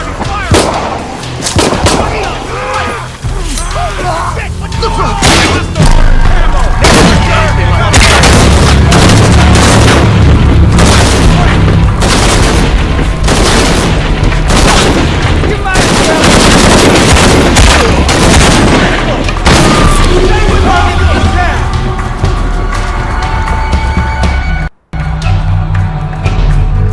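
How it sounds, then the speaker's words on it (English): Shadow of the Tomb Raider combat fills the scene with loud, dense gunfire and booming explosions, rapid shots overlapping almost nonstop before a brief drop near the end. "Watch out, he's firing!"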